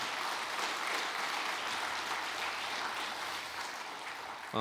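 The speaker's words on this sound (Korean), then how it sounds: "우리 특별히 권사님들을 위해서 격려의 박수 한번 부탁드리겠습니다" A church congregation applauds in encouragement of its deaconesses, a soft, steady, diffuse patter of many hands clapping from across a large room, faint and unbroken.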